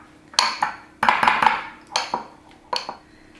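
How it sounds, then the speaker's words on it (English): Cinnamon and pecans being mixed in a bowl for baked apples: a handful of sharp utensil clinks and scrapes against the bowl, close and distinct, in quick irregular bursts. "And then we're going to add in the cinnamon and the pecans and mix that well."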